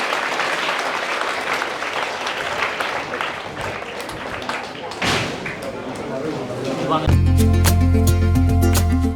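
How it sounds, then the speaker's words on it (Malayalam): Audience clapping for an award-winning teacher at a ceremony, a dense crowd applause lasting several seconds before a thud and a sudden switch to louder tonal sound. "നന്നായിട്ടൊരു ക്ലാപ്പ് കൊടുത്ത സാറിനെ ഒന്ന് അഭിനന്ദിക്കാം"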